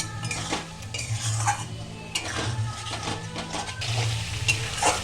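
Spice paste with chili powder is stirred and fried in a pan for a fish-head cabbage curry, with light sizzling, scraping spoon strokes and occasional utensil clinks over a low steady hum; no talk.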